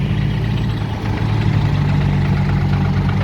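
A ten-wheel truck's engine runs steadily while it reverses at a muddy site where it is sinking, a loud, close, low rumbling drone that continues without pause.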